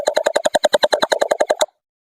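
A battery-operated M92 gel blaster fires water bullets in a rapid automatic burst of about fifteen sharp, evenly spaced pops, loud and close, stopping abruptly with no talk.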